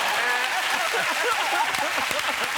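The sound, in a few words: applause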